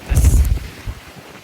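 Strong wind buffets the microphone at a waterside construction site where concrete trucks are pouring, a loud low rumbling burst that quickly fades to a softer gust.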